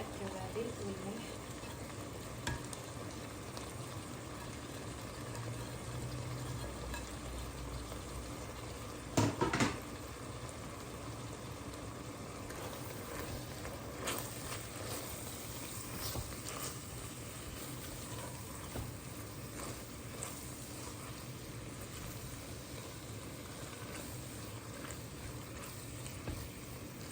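Minced meat frying in a pan as the base for a Ramadan stuffing mix for stuffed vegetables, giving a steady close sizzle with a few clinks of a spoon against the pan, under occasional talk.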